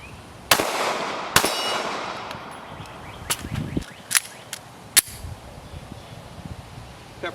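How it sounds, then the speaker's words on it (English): Several sharp pistol shots from a HellCat handgun fitted with a Powder River Precision trigger kit crack outdoors, each followed by ringing metallic clangs from steel pepper popper targets, spaced irregularly with quieter pings in between. "I'm able to get 2 hits on the pepper poppers before they fall."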